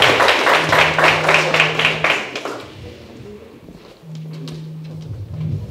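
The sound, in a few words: audience applause for Martial Bélam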